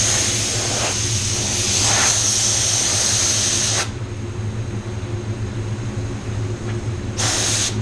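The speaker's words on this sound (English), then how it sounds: "Going to put the first coat of pearl on the card." A spray gun lays a light first coat of white pearl paint on a car, giving a loud, steady close hiss for several seconds, a pause, then another short burst.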